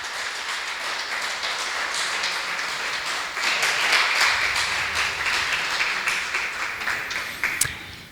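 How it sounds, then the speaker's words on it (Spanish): A church congregation applauds together, many hands clapping in a steady, fairly loud wash that swells midway and then gradually thins, with scattered individual claps standing out near the end. "Un aplauso al Señor."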